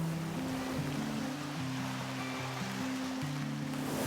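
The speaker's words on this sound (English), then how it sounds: "now I'm sailing back across it, out here in the middle of the Atlantic Ocean" Open-ocean water noise while sailing a boat across the middle of the Atlantic, a steady broadband wash of waves that holds alone at a constant level, with low droning tones running underneath.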